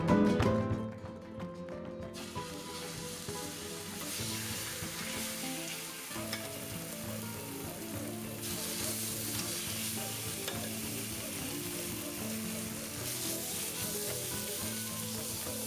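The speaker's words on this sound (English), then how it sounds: "We can hear the chicken sizzling right here." Chicken searing in a hot pan, a steady close sizzle and crackle of frying with occasional stirring and tapping sounds, constant and moderately quiet, with no talking.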